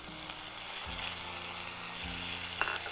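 Tomatoes frying in a pan for a curry, a soft continuous sizzle at moderate distance with faint low rumbling underneath and one brief clink near the end.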